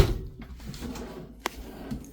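Silverware drawer in a Winnebago Thrive 22MBH RV kitchen, a single sharp close-up knock of the drawer shutting, with a few faint softer bumps around it and no talking.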